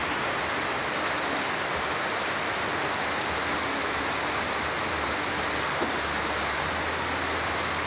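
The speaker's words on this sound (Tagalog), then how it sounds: "Gawa ng napakalakas ng ulan at walang tigil dito sa probinsya ng Bicol." Very heavy, nonstop rain pours down in Bicol province, a dense, steady hiss of water on surfaces that holds an even level throughout with no break.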